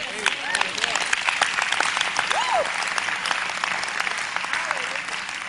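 A seminar audience at a teaching session on the kingdom of heaven claps steadily for the full stretch, a dense patter of many hands with a faint voice briefly audible underneath.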